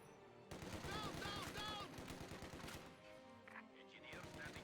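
An MG42 machine gun rattles away in the Company of Heroes 2 war game, a dense, continuous burst of rapid fire mixed with other battlefield noise, fairly quiet overall.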